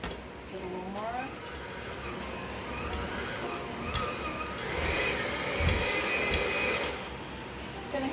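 An electric mixer whirs through zucchini bread batter, a continuous motor hum with knocks and scrapes against the bowl, while a person speaks over it.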